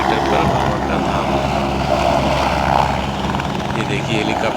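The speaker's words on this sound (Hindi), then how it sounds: "ये देखिए हेलीकॉप्टर उड़ने को तैयार है, आ रहा है।" Helicopter at the Kedarnath helipad, a steady loud rotor and engine drone filling the whole stretch with a broad roar, with someone speaking over it.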